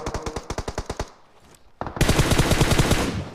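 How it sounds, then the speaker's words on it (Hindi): Automatic gunfire from a PUBG battle: a rapid string of about a dozen sharp shots, a brief pause, then a louder, denser burst of near fire. "ये भाई फायर कर रहा है"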